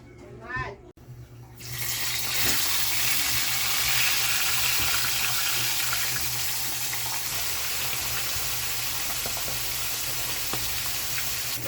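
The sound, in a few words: vegetables sautéing in a pan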